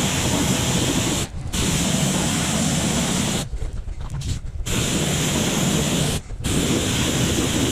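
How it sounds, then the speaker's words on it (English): Steady broadband hiss of a water spray rinsing car wheels during a safe car wash, close and loud, broken by a few brief pauses. "Once that's done, rinse the wheels off."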